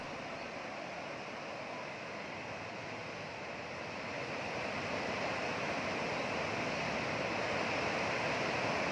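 Fast floodwater rushes in a broad, steady roar during flooding in Assam, a loud continuous churning wash that swells slightly louder partway through, with no voices.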